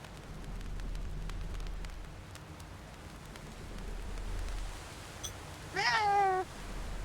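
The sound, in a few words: cat meowing in video game Reka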